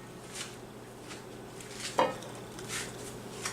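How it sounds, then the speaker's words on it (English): A non-stick skillet being handled in a home kitchen, with a few quiet scattered clinks and knocks of metal, including one sharper clank, over a low steady background. "So, we've got a non-stick skillet."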